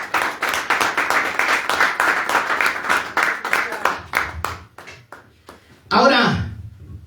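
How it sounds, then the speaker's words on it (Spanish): A church congregation claps, a quick rhythmic burst of close hand claps that slows and thins out after a few seconds, followed by a loud voice starting up. "si quiere dar un aplauso, déselo fuerte"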